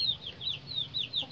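Day-old Cross Master Grey chicks at a feeder give a rapid run of high, thin cheeping peeps, close and fairly steady, with no talk over them.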